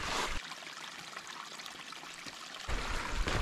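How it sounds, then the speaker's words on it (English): A little waterfall on a northern backpacking trail near glaciers pours and trickles nearby, a steady splashing rush that briefly drops quieter in the middle before swelling close again. "There's a little waterfall right up here."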